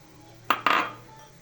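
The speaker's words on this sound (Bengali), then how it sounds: "মাংসর কিমা ঢেলে নেব।" Minced meat tipped into a bowl of snack batter for jhal kodom, landing in two quick soft thuds with a scrape, close and alone.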